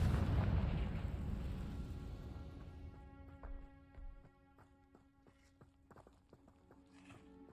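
A Confringo fire-blast spell in a Harry Potter wizard video game: a loud booming explosion that rumbles and fades over several seconds, followed by scattered thuds and footstep-like knocks over a quiet tonal background.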